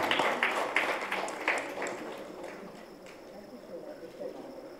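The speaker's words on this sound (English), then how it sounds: "A big round of applause for her" Audience applause at a round-table education conference, a few close, distinct claps in the first seconds fading into softer scattered clapping, with faint voices beneath.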